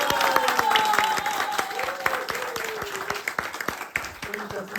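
An audience applauding at a rehearsal before a lecture at a cultural travel event in Hwasun, a sustained burst of clapping that tapers off, with a voice briefly heard over it.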